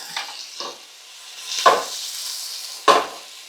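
Shrimp spaghetti being stirred and tossed in a hot pan, heard as four short, separate bursts of sizzling and scraping close up, with near silence between them.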